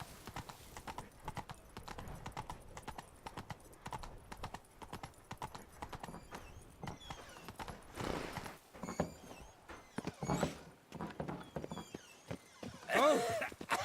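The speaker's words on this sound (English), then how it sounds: "I wonder if it's still faster to ride the horse when I have to go this speed." Hooves of a horse being ridden in The Witcher 3, a steady rhythmic clip-clop at a brisk gait, close and continuous, with a few brief gaps and a louder moment at the end.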